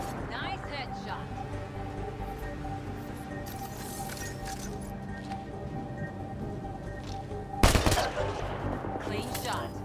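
Gunfire in the video game Mass Effect: Andromeda, mostly a low rumbling background of combat with one loud, sharp burst of shots toward the end.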